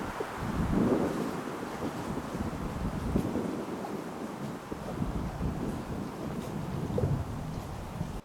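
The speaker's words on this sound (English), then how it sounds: "But if it's this windy, I'm not going to be able to get across the lake" Strong wind gusts across an open lake on a canoe camping trip, a steady rushing roar buffeting the microphone from start to finish, with no one talking.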